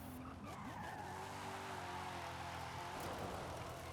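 Tires squeal and skid loudly as a car drifts through a hairpin turn in a racing video game, with a continuous screech over an engine drone that stays close and sustained throughout.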